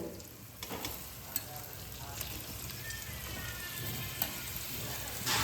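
Chopped tomato being sautéed in spice masala for a sea fish curry, a soft steady sizzle with occasional spoon scrapes and taps against the pan, no voices heard.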